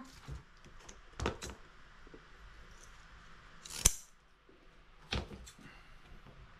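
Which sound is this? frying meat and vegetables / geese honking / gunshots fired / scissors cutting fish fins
scissors cutting fish fins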